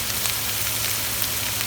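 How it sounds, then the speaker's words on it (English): Chopped onions, green chilies and capsicum sizzle and fry in a pan for a chicken masala, a steady close hiss of oil without pause or talk. "And again stir in and fry this for about 2 minutes."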